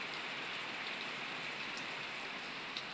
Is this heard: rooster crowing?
no